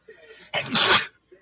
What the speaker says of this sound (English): One of the most famous sneezes of all time.